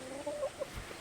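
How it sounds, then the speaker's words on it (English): Soft clucks from chickens nearby, with guinea fowl also present, a few brief calls over faint background noise. "Chickens and guinea fowl."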